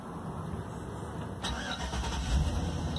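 Car engine cranking and catching on a 50 amp hour lithium battery wired to the starter, a brief strained crank followed by the engine firing into a loud, steady idle close by.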